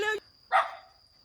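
A dog barks once, a single short sharp bark close by, following a brief vocal sound at the start.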